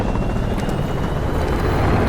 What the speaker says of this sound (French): L'ennemi active un hélicoptère d'attaque.